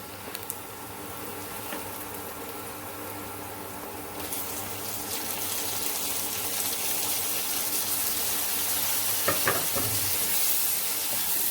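Tomatoes and onion sauté in a pan for dal with a steady, close sizzling hiss that grows louder and denser partway through, with occasional stirring scrapes.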